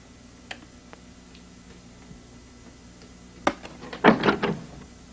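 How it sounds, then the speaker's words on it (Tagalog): A door opens indoors in a film scene, with a sharp click near the start followed by a cluster of louder knocks and creaking thuds toward the end, close by. "Buksan mo pinto."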